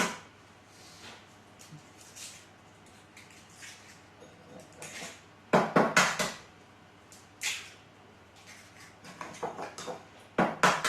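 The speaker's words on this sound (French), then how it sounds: "je casse les œufs d'abord" Eggs cracked for a quiche Lorraine in a kitchen: a series of sharp taps and cracks with short splashes, scattered and close, separated by quiet pauses.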